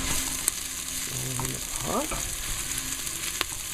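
Shallots sizzle and fry steadily in a hot pan, a close, soft hiss with a few stirring scrapes and clinks, and a brief word spoken over it.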